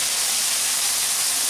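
Chicken and carrots stir-fry in a wok with a little oil and water, giving a loud, steady sizzling hiss up close with no talking.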